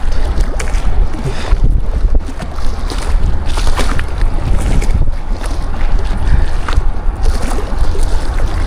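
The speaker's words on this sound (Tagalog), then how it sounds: "Lalong lumalakas yung hangin." Strong wind buffets the microphone out on the water from a fishing boat, a constant loud roaring gust noise with choppy bursts and no voices.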